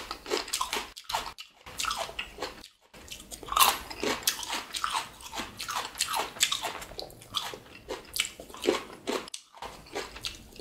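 Biting and chewing Cheongyang chili peppers with spicy Chapagetti noodles, repeated close crunchy bites and wet chewing in a steady rhythm with brief pauses, no talking.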